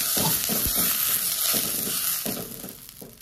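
Oil spread in a hot kadai wok on a home stove gives a steady, broadband sizzle. The frying hiss is close and continuous, with a few soft scraping strokes, and eases off slightly toward the end.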